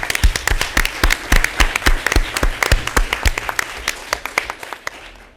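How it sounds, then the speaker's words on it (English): Applause at a township board of education meeting, loud, close individual claps standing out sharply over a thinner background of clapping from the room, tapering off toward the end. "You can clap for that."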